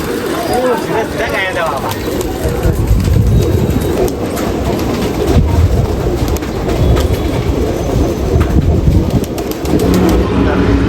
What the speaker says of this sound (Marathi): इथं पूर्ण खाली कबुतर आहे इथं समोर कबुतर आहे कबुतरच कबूतर आहे